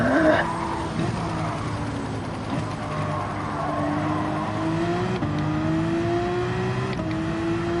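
A Porsche race car in Gran Turismo 7 roars along, its engine note climbing steadily through the gears with short dips at each shift, loud and continuous with no talking.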